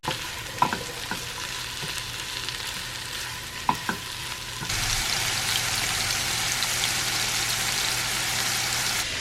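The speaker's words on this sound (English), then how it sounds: "Just saute it in some olive oil until they're really nice and brown, like really nice and caramelized." Onions sauté in olive oil, cooking slowly toward caramelization. A few stirring clicks come first, then a steady, fairly faint sizzle takes over for the rest of the clip.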